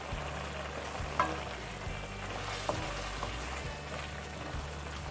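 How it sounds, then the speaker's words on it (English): Tuna cooking in a hot pan for a homemade tuna pie filling, a steady close sizzle and crackle of frying with a couple of faint utensil clicks and no talking. "here is our tuna that I'll be cooking"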